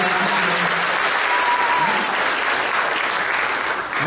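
A loud, sustained wash of applause fills the room at a firefighter academy and emergency communications graduation, dense and steady, with brief faint voices underneath.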